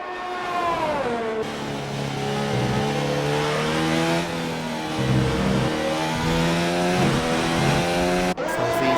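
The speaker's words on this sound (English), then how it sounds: "So these cars are heading back to the pits." Racing cars in a Belgian race event driving past, engines revving and shifting with rising and falling whine, several cars overlapping, loud and sustained, without speech.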